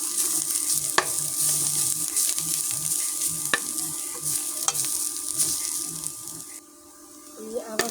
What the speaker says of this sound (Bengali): আবারও শাক নেড়ে দিলাম, শাক আমার ভাজা হয়ে গেছে।